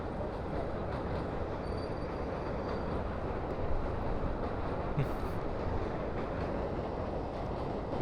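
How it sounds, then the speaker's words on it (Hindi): A train rolls across the Pamban Bridge near Rameswaram with a continuous, fairly distant rumble of wheels on rails and faint squeals, steady throughout, with a hint of voices in the background. "ये रही ट्रेन गाइस, ट्रेन भी आ गई।"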